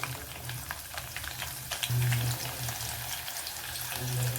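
Sliced onion, cut lengthwise, frying in a pan for a cauliflower and potato dish, giving a steady close sizzle with a low bubbling hum and a few soft stirring scrapes, no voices.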